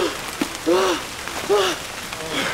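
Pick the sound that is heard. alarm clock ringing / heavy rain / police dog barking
heavy rain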